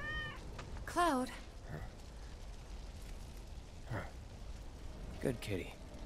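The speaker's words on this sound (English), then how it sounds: "Good kitty." A cat meows in Final Fantasy 7 Remake, a couple of wavering, rising-and-falling cries near the start, with quieter game sounds and brief vocal bursts following over a steady background.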